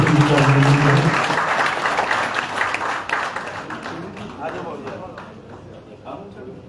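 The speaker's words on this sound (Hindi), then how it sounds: "आप सबके पास भी अवसर है, एक बार जोरदार तालियां बजाएं" Applause from a political rally crowd at Pyali Chowk in Faridabad, a loud wash of clapping at first that gradually thins and fades, with voices talking over it toward the end.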